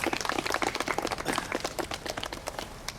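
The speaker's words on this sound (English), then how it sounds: "A round of applause." Round of applause from a small crowd at an outdoor tree-planting ceremony in a park, light scattered clapping that thins out over a few seconds.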